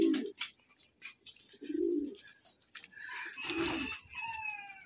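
Pigeons in a pigeon loft, several deep soft coos repeating at close range amid faint chirps and rustling from other birds.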